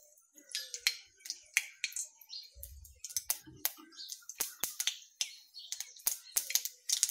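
Mustard seeds spluttering in hot oil in a kadai, sharp irregular pops and crackles scattered close and crisp over a quiet background, with a brief low clatter midway.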